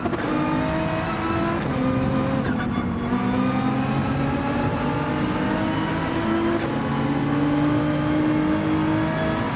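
A race car in Gran Turismo 7 runs flat out on the Nürburgring Nordschleife, its engine holding a loud, steady high-rev drone with shifting pitch and a brief dip, close and continuous throughout.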